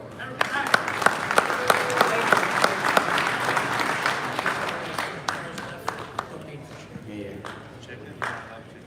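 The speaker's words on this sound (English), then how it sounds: "round of applause" A crowd at the Hot Wheels Collectors Nationals finale claps and cheers after a prize winner is drawn, the applause fading over several seconds with a few isolated claps and voices at the end.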